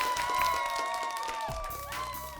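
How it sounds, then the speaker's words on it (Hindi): Crowd applause and cheering from a children's game show audience, sustained over the full stretch with a steady music bed beneath. "तालियां तालियां बजाओ, चलो come on come on come on"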